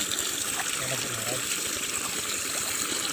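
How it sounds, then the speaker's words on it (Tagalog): Strong flowing water at a farm, a steady broadband rush that fills the whole clip at a constant, fairly loud level, with faint voices in the background. "Lakas ng tubig yan."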